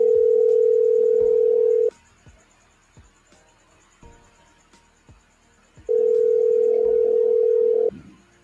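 A telephone rings out on a call to a radio show caller, with two long steady ring tones separated by a quiet gap with faint clicks, loud and close.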